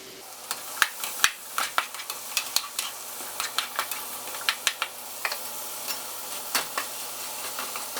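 Bacon, eggplant and zucchini frying together in a pan, giving a steady soft sizzle broken by frequent sharp pops and spatters at an irregular rhythm, fairly close, with no one talking.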